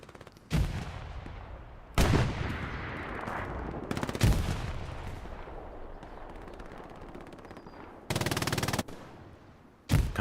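Gunfire in the Hell Let Loose World War II shooter on the Kharkov map, with several loud bursts of automatic fire and single shots separated by quieter stretches of distant battle noise.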